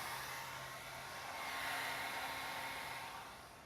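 A hair dryer blows steadily, heating window insulation film on greenhouse glass, a constant close airy whir that holds level for a few seconds and then eases slightly at the end.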